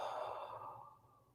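A long, soft exhale during a guided breathing exercise, a single breathy sigh that starts fairly loud and tapers off, heard alone without talk.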